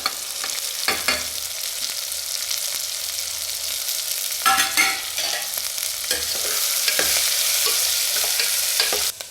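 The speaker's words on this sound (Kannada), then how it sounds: "ಸ್ವಲ್ಪ ಒಗ್ಗರಣೆ ಫ್ರೈ ಆಗ ತಕ್ಷಣ ಕಾಳನ್ನು ಒಗ್ಗರಣೆ ಒಳಗೆ ಬಾಡಿಸ್ಕೋಬೇಕು" Sprouted horse gram sautéing in a tempering of hot oil, a bright hissing sizzle up close with scattered clinks and scrapes of stirring, no voice.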